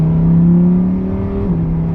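A Lamborghini Huracan EVO in Strada street mode cruises with a steady, smooth engine drone and a slight pitch dip partway through, loud and close from inside the car, no talking.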